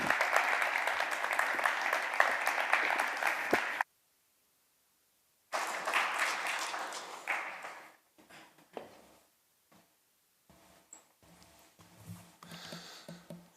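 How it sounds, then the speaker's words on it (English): A conference audience gives a big round of applause welcoming the foundation president to the stage, loud dense clapping that stops abruptly, resumes, then trails off into scattered claps and quiet room noise. "invite him with a big round of applause to the stage"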